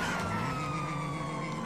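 A police siren wails steadily in Grand Theft Auto V, a sustained tone over engine and traffic noise, continuous and moderately loud throughout.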